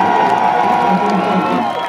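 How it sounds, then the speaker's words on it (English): A rock-and-roll concert crowd at a show cheers and shouts in one loud, dense, unbroken roar. "This is a fucking rock and roll crowd"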